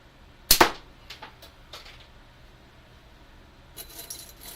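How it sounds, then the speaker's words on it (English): A single sharp shot from an Aries rifle while zeroing 90 mm and 95 mm targets cracks loud and close, with a quick echoing tail. Fainter clicks and rattles follow, then a brief rustle near the end. "I will shoot the Aries."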